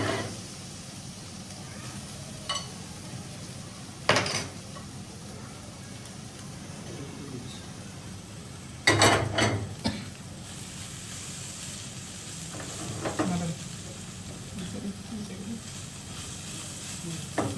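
Onions and chillies frying in a pan give a steady low sizzle, broken by a few sharp utensil clatters and scrapes, with no talking over it.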